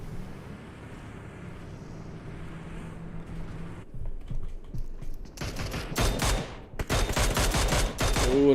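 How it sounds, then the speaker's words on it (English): Burst of rapid gunfire from a battle royale video game during a tournament match, several loud repeated shots crackling in the second half after a quieter stretch of game ambience. "You see Logan taking some shots from Team 3."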